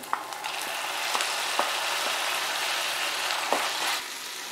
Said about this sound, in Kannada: ಸಣ್ಣದಾಗಿ ಕಟ್ ಮಾಡಿರೋ 1 ಟೊಮೆಟೊ ಹಾಕಿ ಟೊಮೆಟೊ ಸಾಫ್ಟ್ ಆಗೋ ತನಕ ಚೆನ್ನಾಗಿ ಫ್ರೈ ಮಾಡ್ಕೊಳ್ಳೋಣ